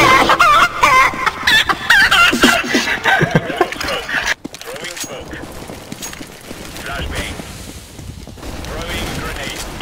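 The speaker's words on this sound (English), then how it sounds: "It's a chicken, yeah. Chicken song. Chicken techno." A techno track built on sampled chicken clucks and rooster crows plays loudly, with dense rapid clucking over a driving beat that continues throughout, while people talk over it.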